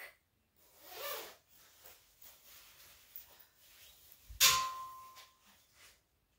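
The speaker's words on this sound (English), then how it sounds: "I'm just going to take my hat and coat off." A coat comes off indoors, with rustling fabric and short zipper rasps, then a sharp metallic clang that rings briefly before the room falls quiet.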